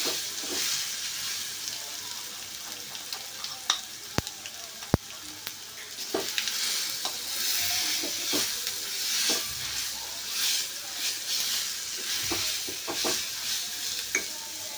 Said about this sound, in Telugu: ఇప్పుడు మనం తీసుకున్న వెల్లుల్లి కారం మొత్తాన్ని కూడాను బాగా కలిసేలాగా ఆయిల్లో కలుపుకోవాలి